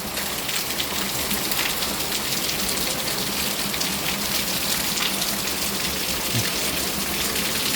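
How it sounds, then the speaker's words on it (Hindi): A downpour of hard, constant rain drums on surfaces nearby in Duki, Pakistan, a thick steady rush that never lets up. "तो ये तकरीबन 2 मिनट की बारिश है, बहुत तेज़ बारिश।"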